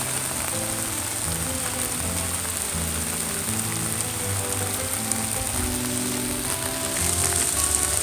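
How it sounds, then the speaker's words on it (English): Heavy rain pouring down on a river, a dense steady patter of drops hitting the water and nearby surfaces, constant throughout with no voices. "It is absolutely pouring the rain."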